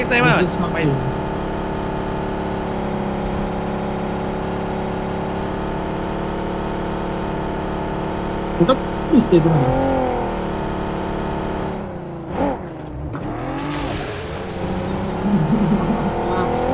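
Vehicle engine in the mobile battle-royale game BGMI, a steady droning hum that rises and shifts in pitch as the car accelerates and turns, heard loudly throughout with brief bumps and revs near the end.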